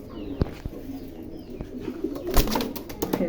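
Pigeons at a fancy pigeon farm coo softly nearby, with scattered sharp clicks and a brief flutter of activity, all fairly quiet.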